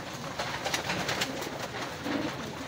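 Racing pigeons at a loft in Rosario, La Union coo softly amid a dense background hum, low murmuring calls repeating through the short stretch without speech.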